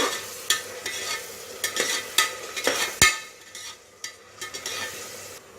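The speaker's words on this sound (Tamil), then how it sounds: "இது கொஞ்சம் நல்லா அந்த பச்சை வாடெல்லாம் போகிற அளவுக்கு வதக்கிக்கலாம்." Mint rice ingredients sizzle gently in a pan while a utensil stirs and scrapes them at irregular intervals, close up with a soft frying hiss underneath.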